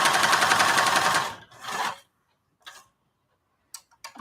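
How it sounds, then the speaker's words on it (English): Sewing machine stitching denim with a big needle: a dense, fast mechanical whirr for over a second, a short second burst, then a few isolated clicks amid quiet. "I'd be glad to be sewing on denim with this big old needle."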